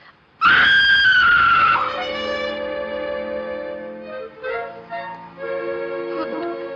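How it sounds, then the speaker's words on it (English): A woman's loud, sustained scream in a 1942 mystery comedy film, sharp and shrill for over a second, then fading into a swell of dramatic orchestral music. "I know what it was. Somebody screamed."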